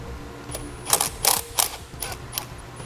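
A nut is worked off a stud on a towed vehicle's battery charge line with a wrench, giving a few quick ratcheting clicks and short metallic bursts, close and clear with no talking.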